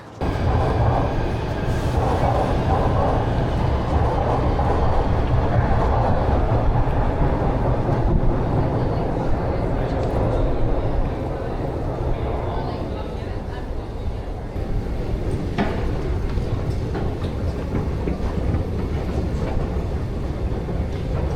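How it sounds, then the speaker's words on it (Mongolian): New York subway train running between stations, a steady loud rumble and rattle of the moving car with faint clicks, while people talk quietly underneath throughout. "хэдүүлээ метро стейшнээс стейшн руу явцгааж байна"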